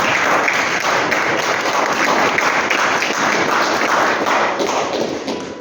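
A church congregation clapping in worship, a loud, sustained, dense roar of many hands at a steady joyful pace, with no speech over it.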